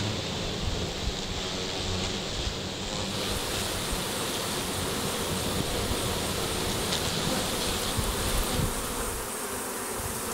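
A honey bee colony at a Flow Hive buzzes as a dense, continuous drone close by, holding steady and loud with no break for the whole stretch.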